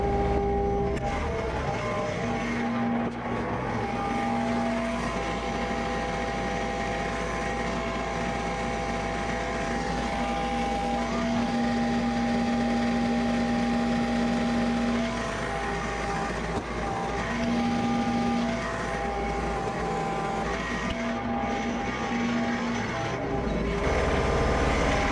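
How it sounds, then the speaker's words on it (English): A car heater fan blows steadily on a snowy day, a constant broadband whoosh with a low engine hum underneath and faint tonal whines drifting in and out, with no talking. "Turn the heat on, the fan on"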